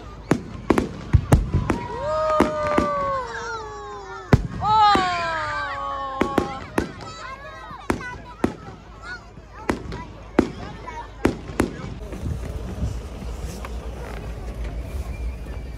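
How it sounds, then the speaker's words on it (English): Diwali fireworks burst in a rapid string of sharp, loud bangs, with whistling streaks rising between them and excited voices under the blasts. "Hamro firework chha sakyo."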